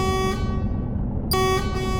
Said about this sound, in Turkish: Korna çal.